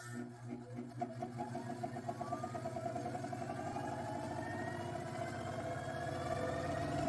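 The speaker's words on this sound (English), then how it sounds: "This motor drives very well by the stepping motor's output." A small electric motor driven by the output of a stepping motor runs steadily, its whirring hum and whine slowly rising in pitch while the pulsing rhythm smooths out, close and alone.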